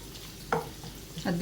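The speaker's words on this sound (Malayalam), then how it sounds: "പൊടിയായിട്ട് അരിഞ്ഞു വെച്ചിരിക്കുന്ന വെളുത്തുള്ളി ചേർത്ത് കൊടുക്കാം. വെളുത്തുള്ളിയുടെ പച്ചമണം മാറുന്നവരെ ഒന്ന് ഇളക്കി കൊടുക്കാം." Finely chopped garlic frying for mushroom soup, a low sizzle under two quick spatula scrapes against the pan, short and close.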